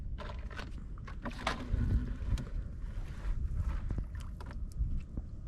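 Wind buffets the microphone on a fishing boat drifting on open water during net fishing, a steady low rumble with scattered knocks and splashes against the hull.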